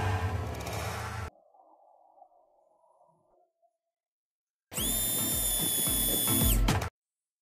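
Small DC geared motor running in two bursts, a steady mechanical whir with a high tonal whine, close and fairly loud, separated by a few seconds of near silence.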